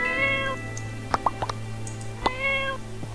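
A pink cat in the farming video game My Time at Portia meows a few times, short tonal calls alone over steady game background music.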